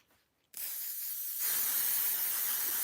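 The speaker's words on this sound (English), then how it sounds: "I'm going to use my basting spray to hold it down in" Basting spray from an aerosol can hisses steadily onto a fabric patch held in place, starting abruptly after a brief quiet moment and continuing as one loud, close, unbroken burst that grows slightly stronger partway through.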